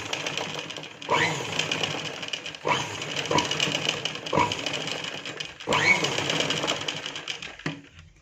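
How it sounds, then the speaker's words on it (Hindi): A sewing machine stitches a dart in fabric with thread of a contrasting colour, running in several bursts of steady whirring that stop and restart, with a final short burst at the end. "इसको इस तरह से मशीन में चला के, ये हम यहाँ पे दूसरे कलर का धागा यूज़ कर रहे हैं"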